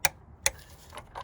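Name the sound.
torque wrench clicking at 25Nm on Ford Fiesta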